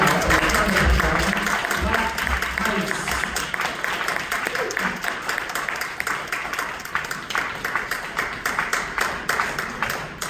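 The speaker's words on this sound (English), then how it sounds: "please put your hands together, give a warm welcome. You can start clapping right now." Audience applause and clapping fills a poetry performance at the Harold Washington Library in Chicago, a dense, steady wash of many hands that stays loud throughout, with claps growing a bit more distinct toward the end.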